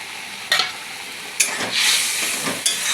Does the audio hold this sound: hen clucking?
no